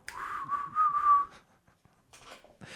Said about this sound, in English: I used to be able to whistle when I had teeth